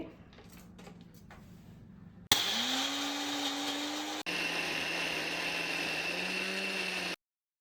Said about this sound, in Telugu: జ్యూసర్లోనే నేను అన్నీ చేసుకోవాల్సి వస్తుంది